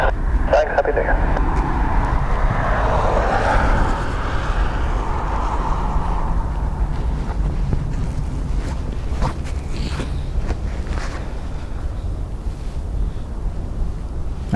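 Ryanair airliner taking off from runway 28 right at Dublin Airport on a windy New Year's Eve, its engine roar rising then fading under radio talk between controller and pilot.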